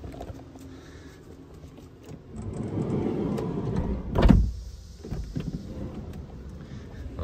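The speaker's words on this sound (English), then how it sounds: "can you hear how the pitch of the fan changes?" A Maxxfan roof vent fan runs at high speed in a camper van, and its whoosh shifts in tone as a door is shut with a solid thump partway through, then keeps humming steadily.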